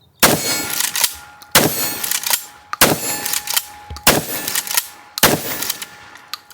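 A rifle bolt is cycled and locked back repeatedly, giving five sharp metallic clangs at a steady interval of roughly one and a quarter seconds, each followed by smaller clicks and rattles, close and loud.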